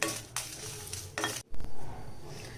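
Curry leaves and dried chillies fry in a pan for raw mango puliyodharai, with sizzling bursts and metal stirring clinks against the pan.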